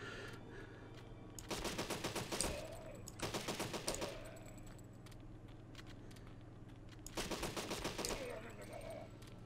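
Bursts of rapid automatic gunfire in the video game Deadly 30, three loud volleys separated by quieter gaps over a steady low game hum.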